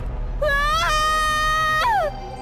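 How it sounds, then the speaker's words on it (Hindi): A woman's long, rising scream in a Hindi horror story, one sustained wail that swoops upward and then falls away, loud and close over a low background hum. "लेकिन अगले ही पल उसकी बीवी चिल्ला उठी"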